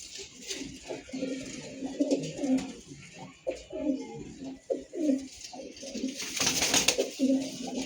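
Soft, repeated coos of a leg-tagged breeder racing pigeon close by, in low rolling bursts, with light rustling and faint background noise.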